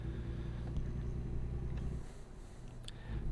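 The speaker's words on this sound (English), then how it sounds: "you can hear our air brakes applying and releasing back there" Air brakes on a truck in American Truck Simulator apply and release in short hissing bursts, one sharp hiss near the end, above a steady low engine rumble that runs throughout.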